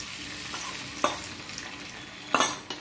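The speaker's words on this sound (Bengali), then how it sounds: "এবার আমি ডিমটাকে ছেড়ে দেবো" Butter and oil sizzle on a hot griddle as an egg goes in and fries, a steady crackling hiss with a couple of sharper scrapes or stirring clatters.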